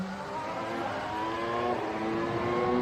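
A 2025 Formula 1 car runs on track, its engine a steady, muffled whine at middle distance that builds gradually as it draws closer, with no voices present.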